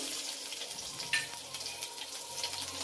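Mustard seeds, cumin and garlic sizzle in a couple of tablespoons of hot oil in a pan, a steady soft crackling hiss with a few brighter pops, close but low in level.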